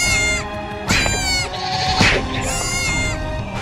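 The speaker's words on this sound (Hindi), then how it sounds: "आवाज बकरी का चिल्ला इतना जोर जोर से" Goats bleating loudly and repeatedly in a village, harsh wavering cries overlapping one after another close to the microphone, with a noisy rural background.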